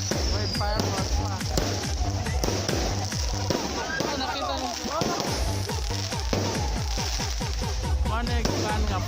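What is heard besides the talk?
fireworks exploding at Christmas light opening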